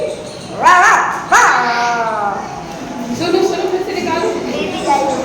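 A child mimics a dog barking with two sharp yelping barks followed by softer whimpering dog-like sounds, close and loud, with adults talking around it in a classroom-like setting.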